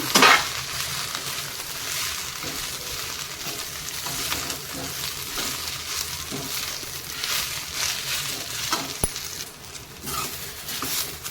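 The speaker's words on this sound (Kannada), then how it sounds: "ನೋಡಿ ಇದು ಈಗ ಹೇಗೆ ಫ್ರೈ ಆಗ್ತಾಯಿದೆ ಎಣ್ಣೆಯಲ್ಲಿ" Leafy greens fry in hot oil in a pan, giving a steady, close crackling sizzle with scattered pops and stirring scrapes that run throughout without a break.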